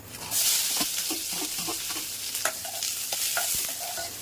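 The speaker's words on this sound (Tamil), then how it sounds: "அதை நல்லா கட் பண்ணி அதே எண்ணெயில் நல்லா வதக்கிக்கலாம்" Two chopped large onions sauté in oil for ginger pachadi, sizzling steadily while a spatula scrapes and taps the pan in irregular strokes.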